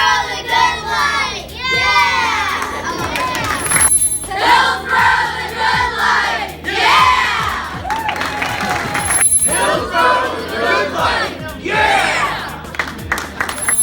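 Dukes team fans cheer and shout together as a loud crowd in Hillsboro, New Jersey, with overlapping yells and clapping rising and falling throughout.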